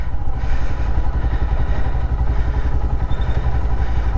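A Royal Enfield motorcycle engine runs loud and close, a steady low throbbing thump as the bike pulls away on a ride, with no voices over it.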